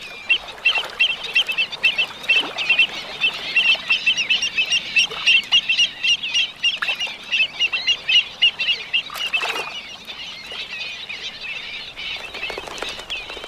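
Wading birds on the shallow waters of once vast lakes in Aztec-era Mexico call in a dense, continuous chorus of chirps and honking calls, with one louder burst near the middle before it eases slightly.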